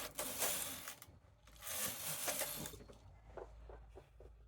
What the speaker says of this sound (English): Knitting 2 rows right now.